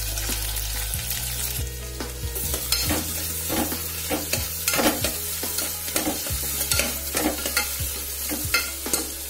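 Onions fry with curry leaves in a pan, a loud constant sizzle punctuated by repeated sharp clatters and scrapes of a spoon stirring, no voices.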